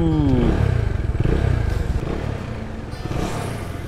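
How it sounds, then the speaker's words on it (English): Bajaj Dominar 250 motorcycle engine starts and revs up close, a rising rev at the start settling into a loud, rough idle with rapid exhaust pulses and mechanical clatter throughout. "This motorcycle definitely sounds good."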